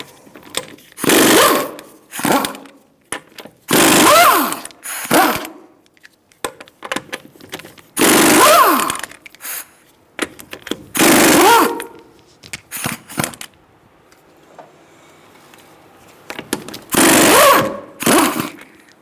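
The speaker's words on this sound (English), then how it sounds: "I'm going to use a 19mm socket to take the wheel off" A pneumatic impact wrench with a 19mm socket spins lug nuts off a Subaru Forester wheel in several loud, rattling bursts of a second or two each, with short pauses and quieter handling noises between them.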